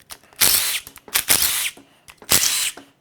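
A power tool zips bolts out of a failed 2021 Subaru WRX FA20DIT engine: three loud, close, high-pitched whirring bursts, each lasting under a second, with short gaps between.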